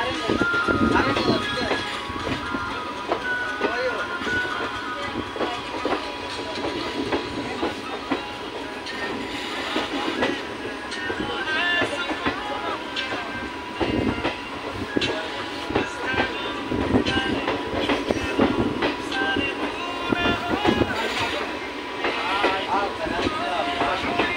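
A passenger train rolls along the rails in hilly country, heard from inside a carriage as a sustained rumble with rhythmic clickety-clack and rattling. Voices are heard faintly under the noise.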